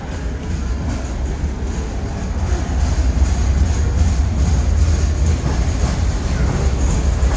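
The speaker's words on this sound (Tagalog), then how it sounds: "Ito guys yung train galing sa Viterbo." A train arriving from Viterbo rumbles steadily into a station in Rome, with a broad, continuous low roar that swells slightly midway and stays close and loud throughout, with no talking.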